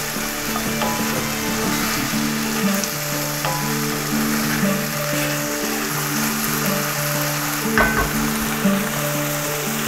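Ground meat sizzles and crackles steadily in a pan as it browns, a close, continuous fry with occasional scrapes and stirs and a brief louder clatter near the end.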